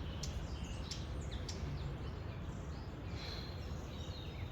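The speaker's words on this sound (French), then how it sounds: "Je ne sais pas si vous entendez les oiseaux," Birds chirping and calling outdoors in a natural setting, scattered short high tweets drifting over a steady low background rumble, fairly faint and distant with no talking.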